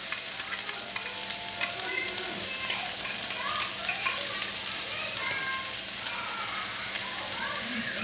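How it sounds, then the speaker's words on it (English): Onions sautéing in a pan, a soft continuous sizzle and hiss with occasional light clicks and stirring scrapes, and quiet voices in the background. "I'm going to saute this."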